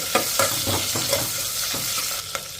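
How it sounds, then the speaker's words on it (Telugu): Chopped medium onion pieces sizzle in a pan, stirred with a spatula that scrapes in repeated short strokes over a steady frying hiss. "ఈ ఉల్లిపాయ ముక్కల్ని 1 నిమిషం ఫ్రై చేసేసుకోవాలి"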